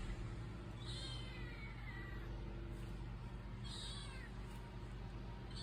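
A kitten meows angrily twice, faint and high, over a steady loud rumble of background noise, with no talking.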